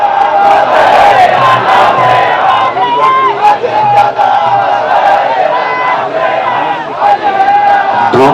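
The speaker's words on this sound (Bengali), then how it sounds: "দলীয় সমর্থকরা স্লোগান দিচ্ছেন।" Party supporters chant slogans in a loud, dense crowd at a BJP political gathering in Maharashtra, a continuous roar of many voices with rhythmic shouted bursts throughout.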